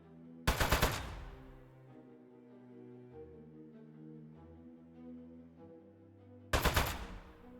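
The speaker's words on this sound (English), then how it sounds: "Shoot the turret. I'm shooting it." Two loud bursts of rapid turret fire in the video game Desk Job, a second apart at start and end, over a quiet tonal music bed, no talk.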